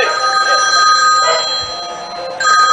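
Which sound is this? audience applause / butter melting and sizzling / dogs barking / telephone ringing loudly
telephone ringing loudly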